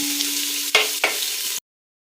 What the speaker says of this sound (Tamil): நல்லா வதக்கிறேன் வெங்காயம்.